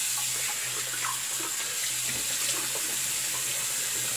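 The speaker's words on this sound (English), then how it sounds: "I'm doing this cold water rinse." A faucet runs steadily into a sink for a cold water rinse during a wet shave, a continuous close splashing wash with no talk.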